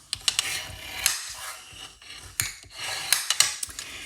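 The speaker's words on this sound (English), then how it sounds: "Get this folded. And I'll burnish the edges." A folded paper card base having its crease and edges burnished, brisk scraping and rubbing passes with small clicks and taps in uneven bursts, close and moderately loud, without speech.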